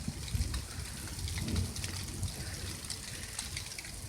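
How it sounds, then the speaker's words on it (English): Rain falls steadily during a thunderstorm, making a soft, continuous watery hiss with a few slightly heavier gushes. It is fairly faint and even, with no voices. "It's raining and thundering."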